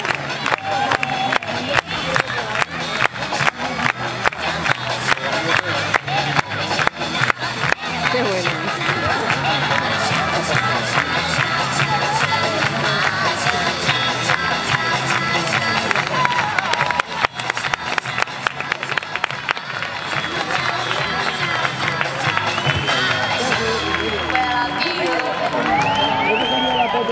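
A large crowd claps and cheers continuously, a dense roar of applause with whistles and voices mixed in throughout.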